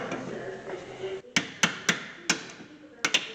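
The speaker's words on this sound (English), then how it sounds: "Use a hammer, not your hands." A hammer knocks on rusty brake caliper bolts of a 2013 Hyundai Santa Fe, passenger side: six or seven sharp metallic strikes in an uneven rhythm, close and loud, after a stretch of background noise.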